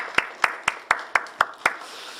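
Church congregation at a Friday night healing service clapping in unison, seven sharp, evenly spaced claps close by, then the sound dies away.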